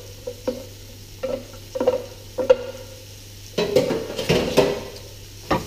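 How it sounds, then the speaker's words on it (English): Onion, celery and carrot sautéed in a pan over high heat for lamb shank ragu: a spoon or spatula clinks and scrapes in steady strokes, then a denser burst of stirring and sizzling, with a low hum underneath and no voices. "So I just want to saute those 3 vegetables."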